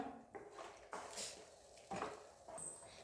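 A spoon scrapes and clinks against a pot while chilly chicken gravy is stirred, giving several separate metallic knocks and scrapes at close range.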